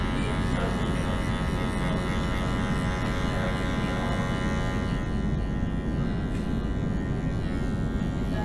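Andis Master electric hair clippers with the blade in the open position buzz steadily while cutting hair during a taper fade at a barbershop, a continuous close, loud hum with no talk.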